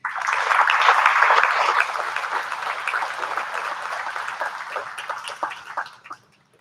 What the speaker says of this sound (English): Please give a round of applause for the 22-23 Eagle basketball team.